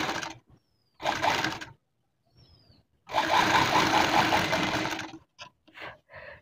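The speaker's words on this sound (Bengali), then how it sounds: "এবারে এর উপর থেকে সেলাই করে নেব" A sewing machine stitching fabric binding onto a blouse neckline, heard as two short bursts of rapid mechanical whirring followed by a longer two-second run, close and clear with small handling sounds after.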